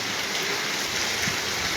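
Steady rain hisses down in a Malwa village during the first monsoon shower, a soft, continuous wash of falling water with no voices.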